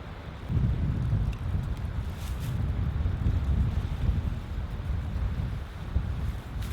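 Wind gusts at a hammock campsite before a thunderstorm, a loud continuous low rumble and buffeting against the microphone that swells and eases throughout.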